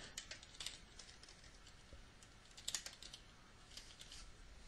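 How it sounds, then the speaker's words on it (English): Faint, quick keystrokes tap on a computer keyboard while typing text into Microsoft Word, irregular clicks in short bursts with no talking. "You type what you want."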